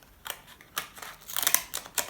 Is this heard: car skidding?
no